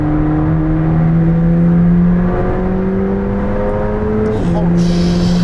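McLaren 765LT supercar engine revving loud and close, a steady rising drone broken by a brief dip and burble at a gear change, with a voice speaking over it.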